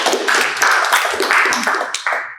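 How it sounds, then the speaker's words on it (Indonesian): Applause from a classroom group at a university teaching session, a short burst of close, fairly loud clapping lasting a couple of seconds before fading out. "Beri tepuk tangan kepada teman-teman."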